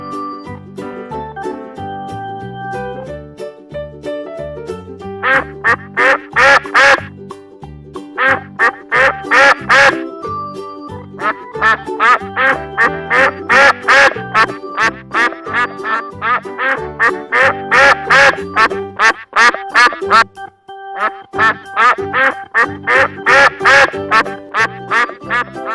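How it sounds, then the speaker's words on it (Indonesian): Ducks quack loudly and nearly nonstop, a busy overlapping chorus of harsh, rapid quacks close to the listener, with brief lulls between bursts. "Bebek."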